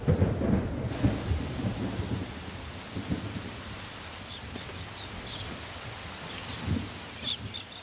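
Heavy rain pours steadily in Australia while deep thunder rumbles through, with a few faint bird calls chirping in the background.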